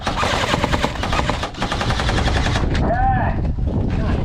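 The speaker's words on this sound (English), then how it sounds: "I'm just gonna keep shooting." An airsoft gun fires continuously during an outdoor game in Tucson, loud rapid bursts of snapping shots with a brief pause midway, and other players' voices are mixed in.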